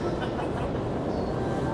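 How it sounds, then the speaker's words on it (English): A New York City subway train rolling into a station, a steady loud rumble that fills the platform with no clear break, and faint voices in the background. "I think a train's coming now."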